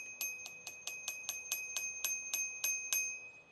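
The bicycle bell on a DYU C3 electric bike rings in a steady series of about thirteen bright, clear dings, evenly spaced and fairly close, with nothing else around it.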